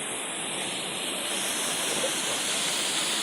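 A massive waterfall in North Carolina roars as a loud, dense, unbroken rush of falling water, steady and close throughout.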